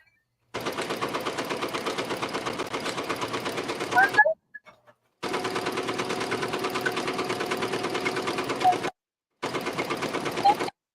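A Ricoma Marquee 2001 embroidery machine stitches out a design with no stabilizer, a loud, steady rapid needle chatter running in three long bursts separated by brief pauses.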